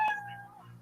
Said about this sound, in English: you know that your 60 seconds is up when you hear that meow of a kitty